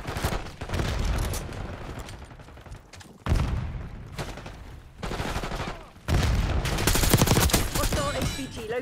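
Gunfire in Black Ops 6, rapid bursts of automatic shots and fusillades in loud, uneven waves, with brief gaps between volleys and no speech.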